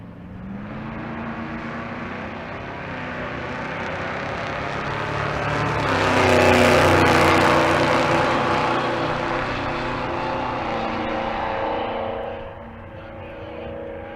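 A 1973 Ford Torino and a 2009 Chevy Corvette C6 drag race at Bandimere: engines roar loudly, swelling to a peak as the cars pass close, then fading slightly into a sustained drone before dropping off.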